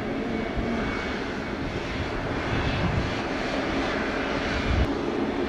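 A fixed-wing airplane passes over Montego Bay airport in Jamaica, a steady, loud broadband engine roar that holds throughout with slight swells, no voices present.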